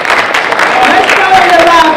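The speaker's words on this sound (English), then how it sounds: "Let's stand up and give them a round of applause" Standing audience applause at a youth empowerment forum in a school setting: a brief burst of crowd clapping with loud voices and cheering mixed over it.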